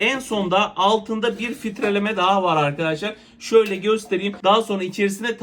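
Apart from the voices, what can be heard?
No everyday noises stand out.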